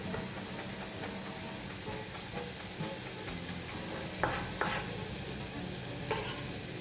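Chopped fresh parsley is stirred into a glossy mushroom ragout in a pan, under a steady close sizzle. A utensil scrapes and taps the pan, with a few sharper knocks near the end.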